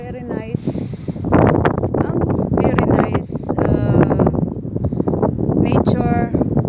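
Gusty wind buffets the microphone in an open grape field with mountains nearby, a rough continuous roar under a man's speech, with a few brief high hissing bursts.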